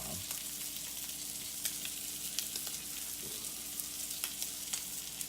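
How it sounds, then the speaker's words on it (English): A New York strip steak sears with butter, giving a steady, moderately quiet sizzle dotted with light crackles and pops. "Get that nice sear on there."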